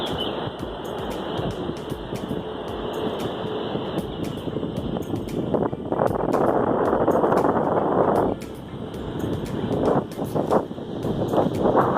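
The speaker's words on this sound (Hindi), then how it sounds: "लाइट हाउस के ऊपर काफ़ी तेज़ हवा चलती रहती है।" Strong wind roars steadily and loudly across the microphone atop a lighthouse on the Konkan coast, gusting harder in places, with a faint high whine running underneath.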